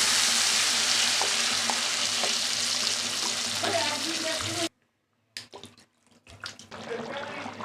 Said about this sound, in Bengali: মাংসটা আমার দেখো কষানো হয়ে গেছে, এবার আমি জল দিয়ে দেবো।